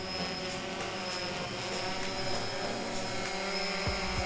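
A DJI Phantom 1 drone hovering outdoors in a light breeze with GPS not yet locked, giving a steady, fairly faint whirring buzz of propellers that holds constant throughout, with no talk.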